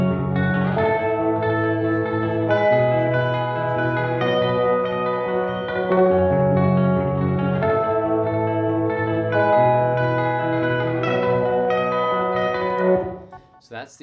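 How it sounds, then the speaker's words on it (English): A synth arpeggio from a music track repeats steadily for about fourteen seconds, bright layered tones washed in heavy reverb and echo, then cuts off abruptly at the end, with no one talking. "So that's the arpeggio."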